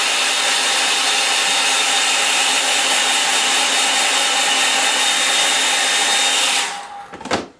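A hair dryer blows steadily and loudly on a drying painting for several seconds with no talk, then switches off and winds down near the end.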